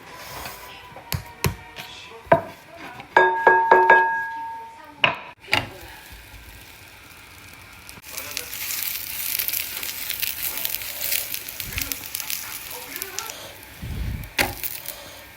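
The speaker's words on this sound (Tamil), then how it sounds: "எண்ணெயில் பொரிச்சு சாதுவாக பொரிச்சு கொடுத்தா ஒரு டேஸ்ட்டாக இருக்கும். ஸோ பொரிக்கிறேன்." Handling clatters and knocks come first, then a steady sizzle of roti frying in hot oil, continuous and fairly close.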